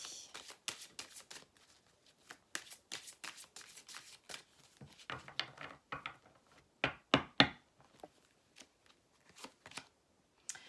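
Oracle cards are shuffled by hand at close range, giving repeated soft riffling flicks and taps in irregular bursts, with brief pauses and a louder flurry toward the middle.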